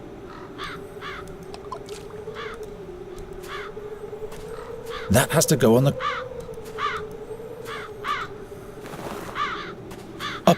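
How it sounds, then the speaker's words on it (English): Crows caw in repeated harsh bursts throughout a scene from the video game The Dark Eye: Chains of Satinav, over a steady low drone, with a voice speaking briefly and a louder clattering burst midway. "It's time to fuck up some crows."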